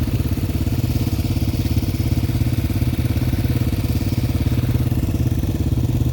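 A Yamaha TW200 motorcycle with studded tires runs on ice at night, its steady, close, chugging single-cylinder engine note going evenly and without pause, with no voices over it.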